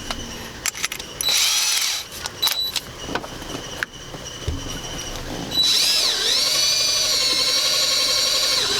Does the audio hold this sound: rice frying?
no